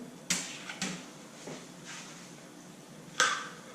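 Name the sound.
Penn Spinfisher V fishing reel bail slamming shut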